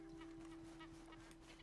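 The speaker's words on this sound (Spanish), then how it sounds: "Pato Pekín." A Pekin duck calls in the video game Red Dead Online, giving soft, repeated nasal honks at a steady pace. The calls sound faint and distant over a constant low game hum.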